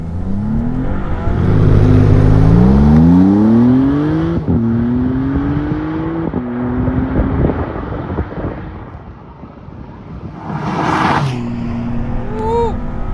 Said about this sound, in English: It is a pleasant sounding 6-cylinder.